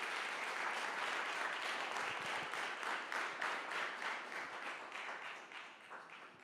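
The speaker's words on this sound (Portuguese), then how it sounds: "Aplauda a Deus pelos nossos atores." Church congregation clapping together in a steady, roughly rhythmic applause, fairly loud at first and gradually fading toward the end, with no talking over it.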